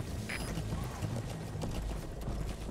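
Horse hooves clip-clopping in the video game Metal Gear Solid V, a steady galloping rhythm at moderate distance, mixed with low ambient game noise.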